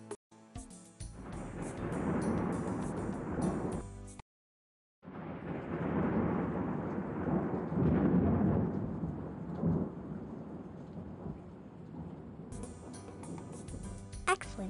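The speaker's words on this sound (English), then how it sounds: "We see lightning before we hear thunder because sound travels much slower than light does." Rolling thunder from The Magic School Bus In Concert game rumbles continuously for several seconds, broken by a brief silence, with a faint electronic tone at the start and end.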